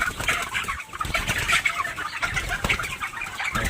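Poultry in hot weather, a dense flock clucking and calling continuously at close range, with rustling and wing flaps mixed in; individual panting breaths are not distinct.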